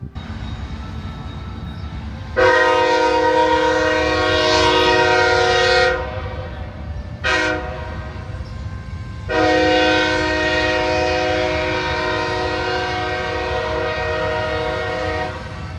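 A train rumbles past steadily at a grade crossing where two rail lines cross at right angles in North Carolina, its horn loud and near in three blasts, two long and one short, over continuous rail noise.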